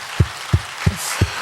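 Slow, evenly spaced rhythmic clapping at a Korean church testimony gathering, four distinct claps about a third of a second apart, close and moderately loud over a faint hum of the room.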